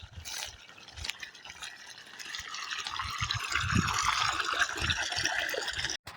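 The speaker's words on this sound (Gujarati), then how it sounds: "આપણે મોટર ચાલુ કરીને આવ્યા ત્યાં તો હરિયે પાણી પહોંચી ગયું હતું." Irrigation water pumped by a motor flows into a chickpea field, a steady splashing, gurgling stream that grows louder and fuller over the clip, heard close and alone.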